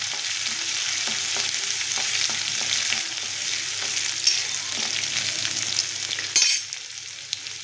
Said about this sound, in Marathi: त्याच्यानंतर थोडासा कुटून घेतलेला लसूण घालूया थोडा परतून घेऊया